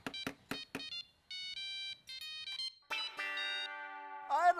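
A phone ringtone plays in a Hindi sitcom household scene: a repeating electronic melody of bright tonal notes, with a few short sounds at the start and the tune growing richer and louder toward the end.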